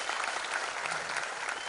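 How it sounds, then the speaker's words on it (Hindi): Dense, steady audience applause fills a large hall at an award ceremony honouring a singer with an award, many hands clapping continuously at an even, fairly loud level with no break. "तालियों का स्वागत, तालियों से और कीजिए"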